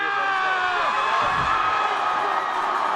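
A dense crowd at a night high school football game between Hendricken and La Salle makes a steady roar of cheering and whoops from start to finish, with a thump of low noise partway through.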